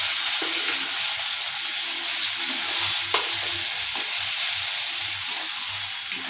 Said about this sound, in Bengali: ঘিটা গরম হয়ে আসলে এই ঘিয়ের মধ্যে আমি আমলকির পেস্টটা দিয়ে দিলাম।